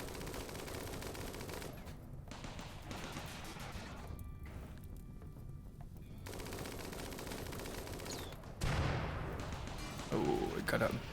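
Minigun fire in a RimWorld battle rattles in long continuous bursts, broken by brief pauses, then swells louder near the end, with a voice speaking over it.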